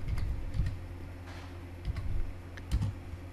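Keystrokes on a computer keyboard while typing a format command for a USB drive, a few scattered clicks over a low background hum.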